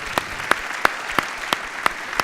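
Rhythmic, evenly spaced claps at an award ceremony for a biotech conference, sharp single hits roughly every third of a second, close and distinct over a quiet background.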